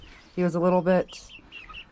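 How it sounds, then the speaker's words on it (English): Backyard chickens give a short burst of tonal clucking calls lasting about half a second, close and clear, while someone talks nearby. "I'm excited about the chickens."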